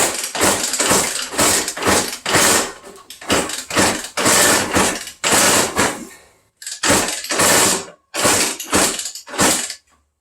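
Small engine with a Mikuni or Keihin carburetor being cranked over, a loud run of repeated mechanical bursts with brief pauses between them, close up and without speech.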